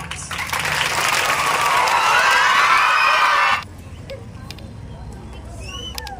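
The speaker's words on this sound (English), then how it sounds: "Give big round of applause." Students and guests at a school Independence Day celebration give a big round of applause, loud and sustained for about three and a half seconds before cutting off to quieter ambient chatter and faint outdoor noise.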